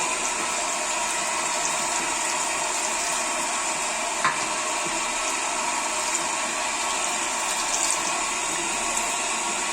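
Tap water runs steadily from a faucet while a limescale-encrusted toilet tank fill part is rinsed under the stream, a constant close hiss with no voices.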